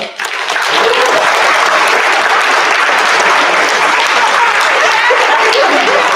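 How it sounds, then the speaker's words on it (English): An audience at a school Veterans Day assembly breaks into sustained applause, steady and full from start to finish, with a few chuckles mixed in. "please stand so we can give you a round of applause"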